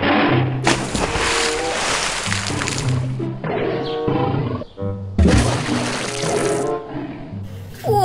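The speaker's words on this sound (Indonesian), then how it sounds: "Dan keluarlah harimau." A tiger roars loudly twice, each long, rough roar separated by a short pause, over a watery splashing and rinsing background.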